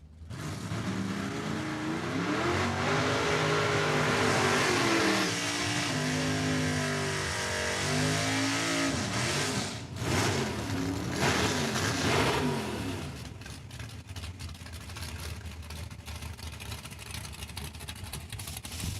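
Two Real Steel Big Tire drag cars, including a 1979 Cutlass Calais, rev loudly and launch at Saskatchewan International Raceway, their engines rising in pitch and then fading into the distance under faint crowd noise.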